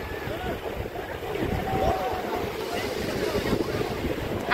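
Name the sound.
seashore with waves and wind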